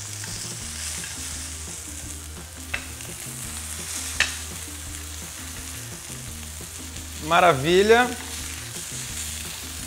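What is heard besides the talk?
meat searing with olive oil in a pan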